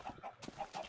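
Chickens clucking in Minecraft, a few short, close clucks in quick succession within under a second, alone without any talking.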